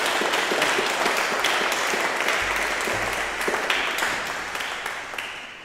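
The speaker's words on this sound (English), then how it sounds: "So please can we give a round of applause for Professor Cristobal Uauy as he comes to" An audience at an evening lecture gives sustained applause as a professor walks up to speak, steady clapping that slowly fades toward the end.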